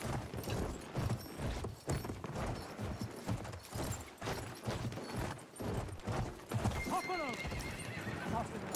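Horse hooves clip-clopping at a gallop in the World War I shooter Battlefield 1, with whinnies and neighs, steady and close under game noise and a player's talk.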